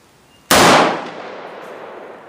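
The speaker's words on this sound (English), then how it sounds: "I'm gonna shoot dead nuts in the middle." One AK rifle shot at an outdoor shooting range: a sudden, very loud crack followed by a long fading echo, close to the listener and with no talk.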